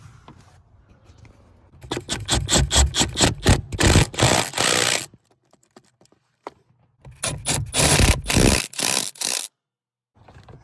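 A ratchet clicks rapidly in two bursts of several seconds each while 10 mm bolts are tightened on a DC2 Integra during a B20 engine swap, loud and close with quiet gaps between.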